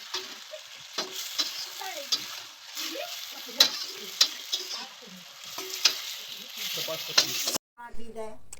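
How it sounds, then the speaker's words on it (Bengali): Manchurian being stirred and fried in a pan, a soft continuous sizzle with repeated sharp spatula knocks and scrapes, close and moderately loud, ending with a brief different noise. "খুব ভালো করে মিশিয়ে দেবো, যাতে প্রত্যেকটার সাথে প্রত্যেকটা জিনিস খুব ভালোভাবে মিশিয়ে দেবো"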